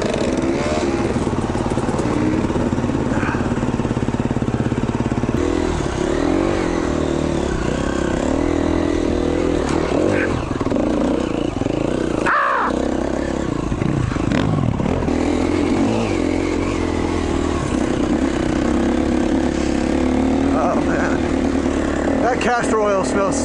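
KTM 350XC-F enduro dirt bike engine running loud and steady throughout a rough cliffside ride, with rising and falling revs, clattering chassis noise and talk over the engine.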